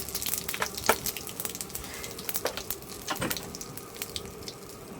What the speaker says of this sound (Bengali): এর মধ্যে দিয়ে দিচ্ছে একটু জিরা ফোড়ন